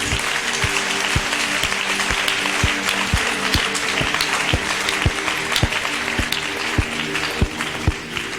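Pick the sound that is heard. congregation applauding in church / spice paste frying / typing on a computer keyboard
congregation applauding in church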